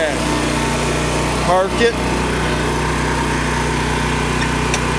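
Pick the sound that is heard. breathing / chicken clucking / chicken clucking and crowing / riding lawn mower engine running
riding lawn mower engine running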